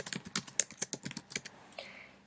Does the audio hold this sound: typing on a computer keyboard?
yes